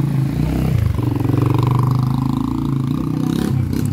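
A motorcycle engine runs close by with a throaty, pulsing idle that rises into a brief rev and then drops back, its rhythmic chug steady beneath faint background clatter.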